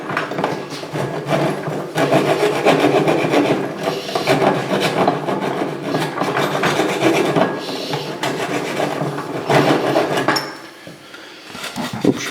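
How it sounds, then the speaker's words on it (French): Lead pipe scraped clean before soldering a lead-to-copper joint: rough, rasping strokes repeat in a steady back-and-forth rhythm, close and fairly loud, easing off near the end. "c'est important de bien nettoyer le plomb avant de le souder."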